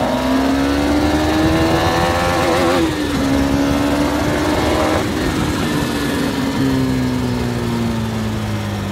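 A KTM Duke 250 motorcycle accelerates through its gears, the engine loud and close with a steadily rising pitch that dips at each gear change, under constant wind rush.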